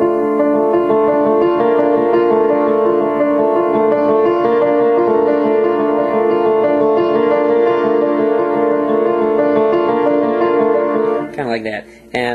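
Piano repeats a string theme figure, with the A shifting to a B once each measure, steady and sustained, ending with a brief burst of a voice as the playing stops.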